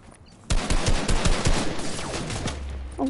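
Automatic gunfire in the video game Fortnite, a sudden loud burst of rapid shots after a quiet moment, continuing in a dense rattling volley for a few seconds.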